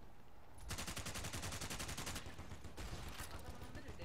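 Rapid automatic gunfire from a 9A-91 rifle in the video game Battlefield Play4Free, two sustained bursts of fast, evenly spaced shots separated by a short pause.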